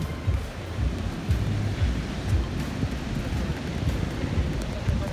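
Ocean surf at Pantai Peti Tengah near Kuta, Bali, in the evening: a steady, windy wash of waves breaking on the beach, with low rumbling swells and faint background voices from a busy shoreline.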